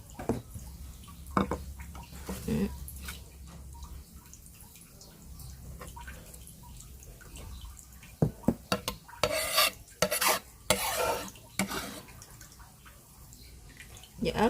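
Knife chopping through fresh Vietnamese coriander (rau răm) for a vegetarian shredded chicken salad, a run of brief close taps and scrapes on a board, with a louder burst of quick cuts toward the end and no talk.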